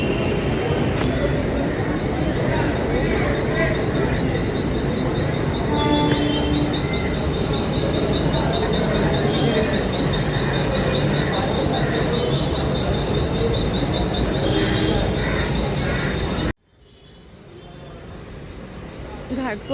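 A train pulls into Ghatkopar station in Mumbai with a loud, steady rumble of wheels on rails, a thin high squeal and whine above it, before the noise cuts off abruptly near the end and a quieter background hum follows.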